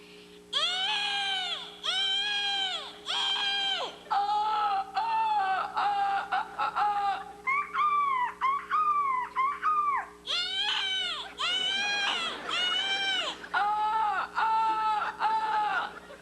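A human voice imitates the call of a skua (Catharacta skua): a series of harsh, wailing cries repeated in bursts, loud and close.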